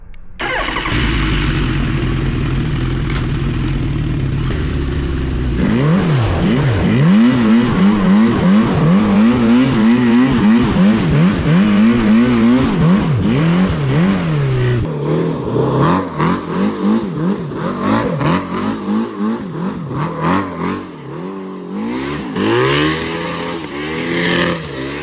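A street-legal Yamaha Banshee ATV fitted with a Hayabusa engine starts up and idles roughly, then revs hard in repeated rising and falling bursts, loud and close with no talking.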